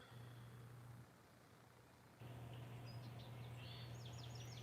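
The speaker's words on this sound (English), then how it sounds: "Some birds." Birds chirping outdoors in the early morning, faint high twittering calls that come in short bursts over a steady low hum and background hiss, distant and quiet.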